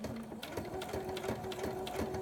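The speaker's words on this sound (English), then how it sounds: "So all you're doing is just using a straight stitch to sew the track onto the welt." A sewing machine straight-stitches a hair track onto a wig cap in a steady, close, continuous mechanical whir with a fast rhythmic needle chatter and faint hum.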